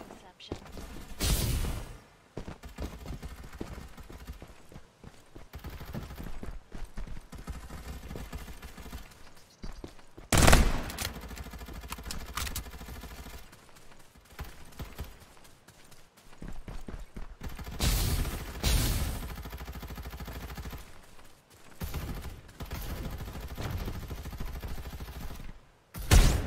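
Gunfire in the battle game Farlight 84, repeated bursts of loud shots and thuds separated by quieter stretches across the whole stretch, with game voice lines heard between them.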